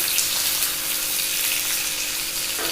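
Onions sizzling in a hot pan with ginger and garlic already fried in the oil, a steady, close, even hiss that holds without pause throughout.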